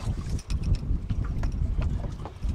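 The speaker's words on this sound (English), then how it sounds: "Wind picking up." Wind gusts across open water around a fishing boat out for trout, a steady low rushing roar buffeting the microphone throughout with no talking.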